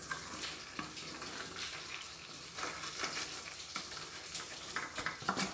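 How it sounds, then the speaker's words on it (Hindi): Paneer cubes being gently mixed with spices in a hot pan for paneer butter masala, giving a steady soft sizzle with light scraping stir strokes throughout, close and moderately quiet. "आराम से हल्के हाथ से धीरे धीरे हम इन पनीर को मसालों के साथ मिक्स कर लेंगे।"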